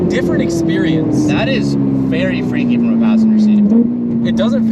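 Ferrari 488 with an 800 hp engine revving hard, its steady drone sliding slowly downward as the wheels spin, loud and close under ongoing talk from the occupants.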